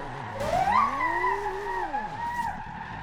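A Nissan IDx concept car spinning through a 360-degree drift in Forza, with tire screech and engine tone sweeping up and then down in a long smooth arc, close and fairly loud.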